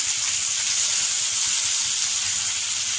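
Garlic, onions and green chillies frying in a pan with dried red chillies, a steady close hiss and sizzle of hot oil that runs unbroken without any talking.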